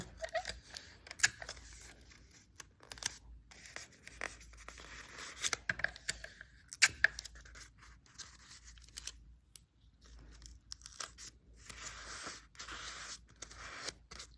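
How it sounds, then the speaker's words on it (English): Sharp snipping and crisp paper sounds from scissors, a handful of distinct cuts spaced irregularly with quiet rustling between them, close by. "I took my scissors and cut a hole into it where the marble would go"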